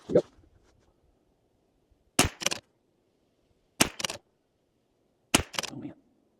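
Three sharp rimfire rifle shots from a custom Rim-X and a Venus Pro, evenly spaced about a second and a half apart, each a crisp crack with a short echoing tail against quiet surroundings.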